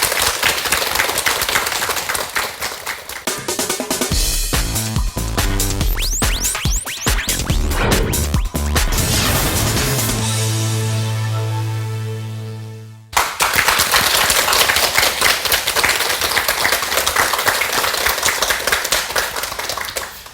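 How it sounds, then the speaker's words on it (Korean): Audience applause at a lecture on autonomic nervous system health, a dense steady wash of many hands clapping that runs the whole length, briefly thinning before swelling again. "박수 부탁드리겠습니다."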